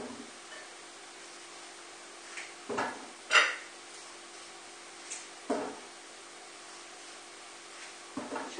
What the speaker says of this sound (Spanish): Cortamos todo así.